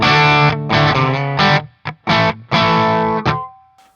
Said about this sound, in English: that's just the pickup into the Fender Deluxe Reverb.